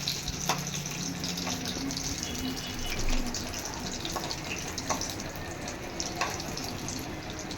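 Green plantain pieces frying in oil in a wok for a Bengali curry, a continuous sizzling hiss with scattered crackles and soft pops at moderate distance.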